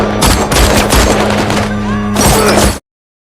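Dense, loud gunfire in an Afghan war film battle scene with Taliban fighters, rapid bursts of shots in a continuous barrage that cuts off abruptly.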